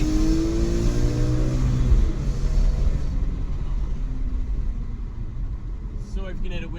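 A BMW M3 E46 with an SMG gearbox at full throttle, windows open, its engine howling loud and close as revs climb, then easing into a steady rumble with road and wind noise.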